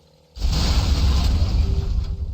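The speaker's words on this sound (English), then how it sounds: "Oh, it's an explosion." Explosion in the video game BioShock, a sudden loud boom that swells and then rumbles on with a heavy, sustained roar for about two seconds, with no voices over it.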